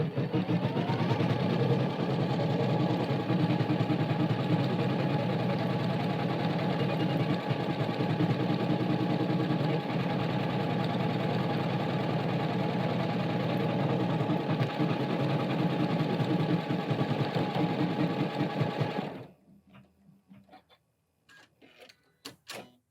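A Janome Continental M17 embroidery sewing machine stitches steadily with a dense, rapid mechanical whir for about nineteen seconds, then stops, leaving faint handling clicks.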